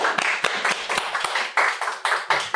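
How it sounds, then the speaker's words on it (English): Clapping at the opening of a sales talk show, heard as a series of sharp, distinct hand claps in an uneven rhythm from a few people close by rather than a full crowd. "Thanks for the big applause"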